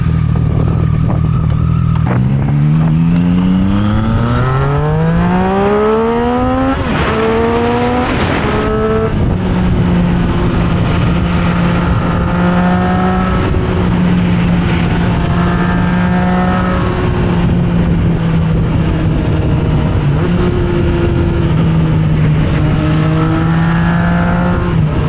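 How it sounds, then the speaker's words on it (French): A motorcycle engine runs loud and close throughout, revving up through the gears as it accelerates, then holding a steady cruising drone with occasional shifts. "on prend la moto et on va aller voir ce que ça donne"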